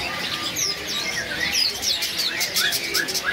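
Zebra doves (perkutut) coo amid a busy chorus of chirping caged birds at the Pramuka bird market. Rapid overlapping tweets fill the scene throughout, with faint talk from people in the background.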